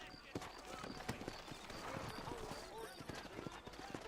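Horse hooves clip-clop in the Western video game Red Dead Redemption, a quick uneven rhythm of hoofbeats close by, mixed with ambient game sound and a voice talking over them.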